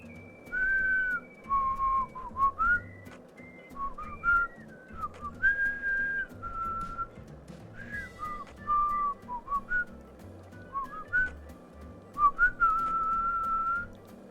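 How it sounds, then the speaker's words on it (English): A character in the video game Deadly Premonition 2 whistles a song, a clear melodic tune of sustained and gliding notes with brief pauses, over a low, quiet game background. "The whistling in this game is good."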